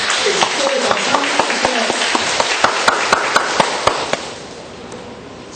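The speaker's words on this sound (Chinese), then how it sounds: "各位掌声" Audience applause at a lecture hall talk, a burst of clapping with sharp individual claps, loud at first and tapering off to quiet.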